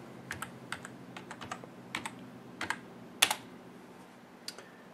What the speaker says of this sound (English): Enter your password.